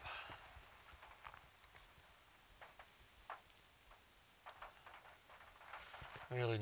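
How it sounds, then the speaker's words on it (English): Light rain patters on a car roof as faint, irregular ticks and taps, close by and quiet, with a louder sound near the end. "Really nice light rain, as you can hear."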